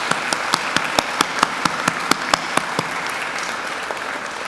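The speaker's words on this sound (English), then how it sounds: "Please join me in giving Joan a round of applause." An audience at a university graduation ceremony applauds the first PhD graduate, with a dense wash of clapping and a few sharp distinct claps standing out, sustained before tapering slightly.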